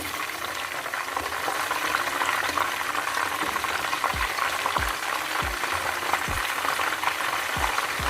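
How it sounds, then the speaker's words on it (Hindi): Fish fries in a pan on its second side after flipping, a dense, steady sizzle with soft low pops and spatters recurring near the end, no talk over it. "और इसकी दूसरी साइड भी अच्छे से फ्राई हो जाए"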